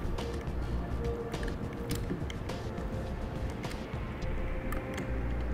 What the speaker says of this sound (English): Take our included Allen tool and start to tighten it down, getting it snug at first